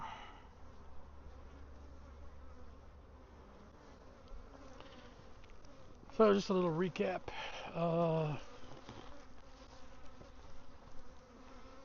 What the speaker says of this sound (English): There's some bees in it.